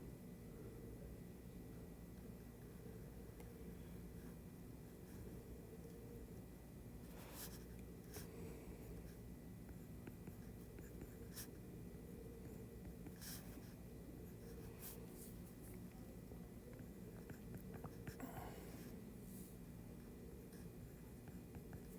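Pen or marker drawing cosine and sine graphs by hand, faint scattered scratching strokes in a quiet room over a low steady hum, with no talk.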